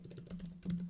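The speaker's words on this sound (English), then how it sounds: "I'm just going to type it all out." Quick fingers tap on a computer keyboard, a brief run of soft, even clicks close by with no talking.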